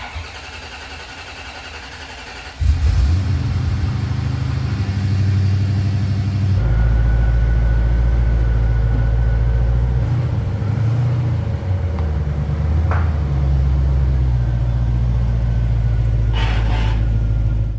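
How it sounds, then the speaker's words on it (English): A flood-damaged Corvette ZR1's engine cranks and fires up, then settles into a loud, steady idle with a rougher rev as the car drives out of a barn, close and dominant with no talking. "I'm just thrilled we're going to finally get this car out of the barn under its own power"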